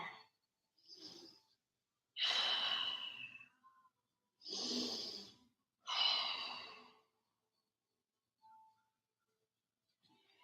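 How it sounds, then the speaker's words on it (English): Slow deep breaths during a guided yoga flow in down dog, four or five long airy inhales and exhales close to the microphone, separated by quiet pauses, with no talking. "Send the breath into new areas. Illuminate the whole body with breath."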